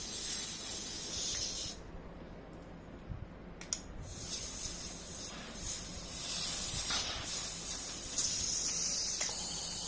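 Compressed air sprays in hissing bursts from a nozzle, blowing built-up dust out of a laptop, with a brief pause and a sharp click partway through, close by and steady.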